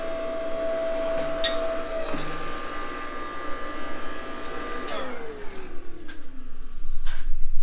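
A MetalPro ironworker machine punching half-inch holes in metal, with a steady motor whine, a few sharp clunks and a falling mechanical wind-down, close and fairly loud, with no voices.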